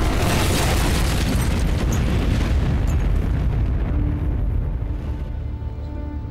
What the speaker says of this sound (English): I could see the explosion from five clicks this way. It looked like a nuclear bomb went off.